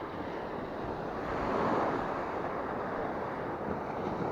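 Sea waves breaking on the shore at Mersin during a sea bass fishing trip, a steady broad wash of surf with wind noise swelling slightly in the middle, fairly close and with no talking.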